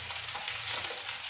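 Amodi fish fries in a pan with a continuous bright, hissing sizzle and gentle stirring scrapes, close and steady throughout with no voices.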